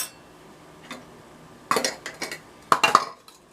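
Metal teaspoons clink and rattle as they are handled, a few sharp close chimes in quick clusters against a quiet background.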